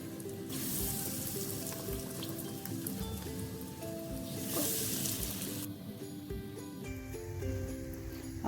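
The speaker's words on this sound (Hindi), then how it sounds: "ऐसे डिप करके तो फिर मैं फ्राई करूँगी इसमें" Chicken spring rolls frying in hot oil over a low flame, a steady close crackling sizzle throughout that swells briefly in the middle, with no voices.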